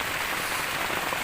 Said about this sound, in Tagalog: inaabot na nga kami ng ulan